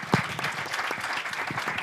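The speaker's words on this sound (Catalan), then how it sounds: "Un altre aplaudiment per ells," A short burst of audience applause for the presenters at an IT education event: brisk, dense clapping that starts with a sharp clap near the front and carries on evenly.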